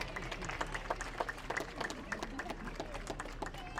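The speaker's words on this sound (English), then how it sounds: "It's the encouragement clap." A zoo bird show audience at Taronga Zoo, Sydney, gives an encouraging round of clapping, a fast, steady patter of many hands heard from a distance at low level, with faint voices mixed in under it.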